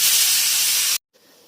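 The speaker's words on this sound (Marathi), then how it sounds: "कुकरला 2 शिट्या झालेल्या आहेत." A pressure cooker holding rice with ghee lets off a loud, steady steam hiss for about a second, which then cuts off abruptly and is followed by a faint, low hiss.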